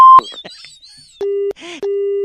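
A steady electronic telephone tone sounds twice in long beeps near the end after a call is hung up, following a brief beep and a few quiet sounds at the start.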